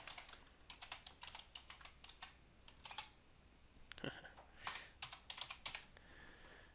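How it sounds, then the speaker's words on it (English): Quick typing on a computer keyboard while entering an email address, a close, quiet run of clicky keystrokes in uneven bursts with brief pauses and no speech. "let me type in my email address very quickly"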